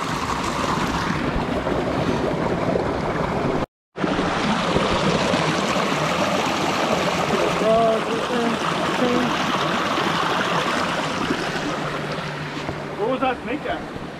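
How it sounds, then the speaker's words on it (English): Steady rushing water from a waterfall on the Cold Springs Trail in Santa Barbara fills the scene, a constant splashing roar with a brief dropout, and a faint voice or two near the end. "Oh, the waterfall."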